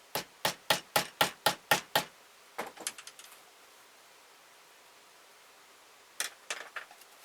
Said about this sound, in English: we'll punch a hole in here so we know where our center is